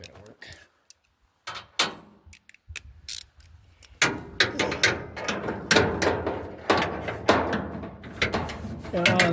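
Tools clink and scrape against bolts underneath an old Dodge dump truck. The clip opens with sparse metallic clicks, then grows into denser close-up rattling and ratcheting with some faint vocal sounds mixed in.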